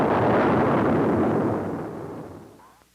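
A Convair F-102 test rig fires an MB-1 missile with a loud, roaring blast that fades away over a few seconds, with no talk over it.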